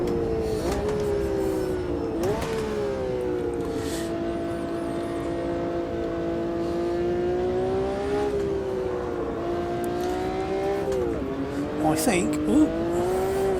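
Race car engine in the Automobilista 2 video game holds a steady drone with shifting pitch, rising and dipping through corners, with brief tyre slides near the end; someone talks briefly over it.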